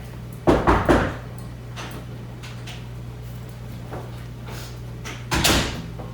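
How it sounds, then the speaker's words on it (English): Knocks land on a wooden door in two short bursts, three quick raps near the start and another cluster near the end, over a steady low room hum. "A few moments later, Baba knocked on my door."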